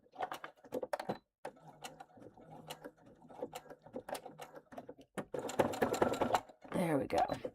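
A home sewing machine runs a quick stitch while attaching a piece during bag construction, its rapid mechanical whirring coming in short bursts, loudest near the end, with a voice talking over part of it.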